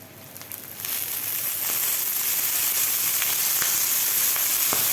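Oil poured onto roasted green chillies in a pan bursts into a loud, close, continuous sizzle that swells within the first second and holds steady, with faint crackles and pops scattered through it.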